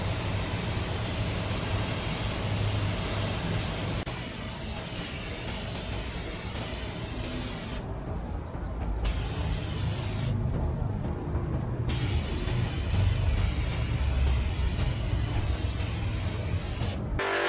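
Spray gun laying down white paint on a car in a workshop, a steady loud broadband hiss of compressed air and paint mist that runs continuously with a couple of brief pauses between passes.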